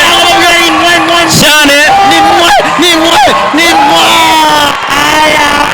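A large pageant audience cheers loudly for a contestant, with whoops, yells and shouting voices rising over a continuous roar of crowd noise that stays strong throughout.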